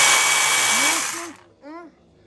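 A Flinke cordless mini chainsaw runs with a high-pitched whirring buzz that cuts off abruptly, followed by brief spin-down whines as the motor slows.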